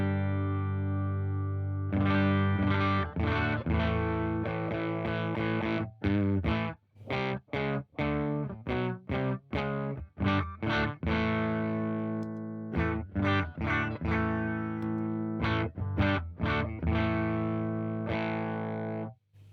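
Electric guitar through a Fredric Effects Grumbly Wolf pedal pushed up for edge and thickening, playing loud chords and riffs with sharp stops and gaps, gritty and close with no talking.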